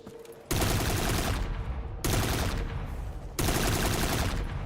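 Three loud bursts of automatic gunfire in a modded zombies video game, each starting abruptly and rattling on for over a second, heard alone without talk.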